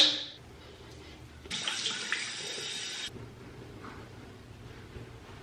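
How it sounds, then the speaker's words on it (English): Running tap water while a face is washed with Curology cleanser at a bathroom sink, a steady splashing hiss for about a second and a half before stopping, with quieter room sound around it. "then I wash my face with the Curology cleanser"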